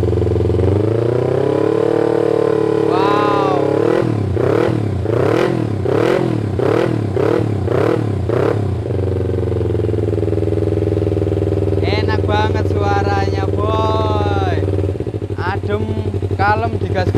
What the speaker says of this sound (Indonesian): Wah, lama banget nggak dengar suara knalpot 2 silinder seperti ini, boy.